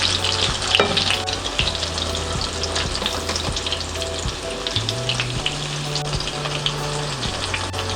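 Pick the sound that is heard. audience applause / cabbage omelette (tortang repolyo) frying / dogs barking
cabbage omelette (tortang repolyo) frying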